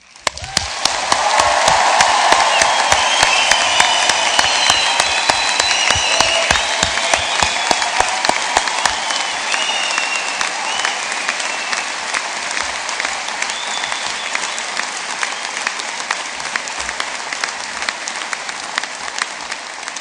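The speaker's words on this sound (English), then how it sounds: "I'd like to give you an absolutely huge round of applause, and I'd like to raise the roof" A huge, sustained round of applause from a large audience at a Belfast university graduation ceremony, loud dense clapping swelling quickly and holding for twenty seconds, thinning slightly toward the end.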